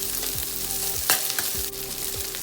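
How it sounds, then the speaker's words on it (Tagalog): Pork for egg fried rice stir-frying in a hot pan until crispy: a steady sizzle broken by quick, repeated scrapes and knocks of a spatula, close up with no talking. "Stir fry mo lang saglit hanggang sa maging crispy na yung pork."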